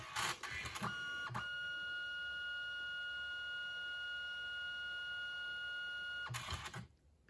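A Canon Selphy CP1300 photo printer runs with a steady mechanical whir and faint tonal hum for several seconds, bracketed by short clunks and feed noises at start and finish, heard close and quiet.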